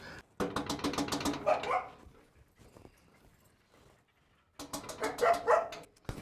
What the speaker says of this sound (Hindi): और दिलदार ने कुत्ता कब रख लिया?